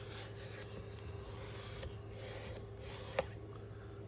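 Paper card corners pressed together and burnished by rubbing during a Stampin' Up paper craft assembly, faint repeated rasping strokes over a low background hum, ending in a single sharp tap.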